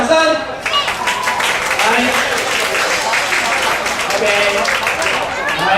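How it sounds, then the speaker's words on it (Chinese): An audience at a gospel dinner event applauds as gift recipients come up to receive English-Chinese dictionaries, steady clapping running throughout beneath a voice speaking over it. "给他一个掌声"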